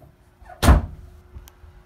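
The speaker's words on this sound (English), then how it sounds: "That door just slammed shut." A door in the Ghost Chasers game slams shut with one sharp, loud thud that rings out briefly against a quiet room, followed by a faint small knock.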